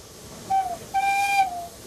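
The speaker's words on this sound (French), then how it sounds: "Un petit coup de sifflet avec la main gauche." Two short blasts from a Train des Pignes steam locomotive whistle in Provence, a brief toot followed by a longer, steady shrill tone, clear and close over a faint hiss of steam.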